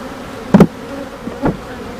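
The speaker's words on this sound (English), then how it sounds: "I'm going to shake some bees down into the nuke." Honeybees buzz steadily close by during a hive inspection of brood and nectar frames, with a constant drone broken by a few louder thumps and brief bursts of movement.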